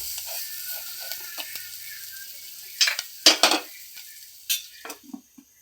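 Banana fry being stirred in a pan with garam masala and coriander, a soft background sizzle under scattered scraping and clinking of a spoon against the pan, close and moderately loud in bursts.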